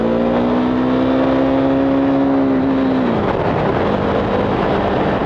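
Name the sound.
KTM Duke 390 motorcycle engine revving on a race track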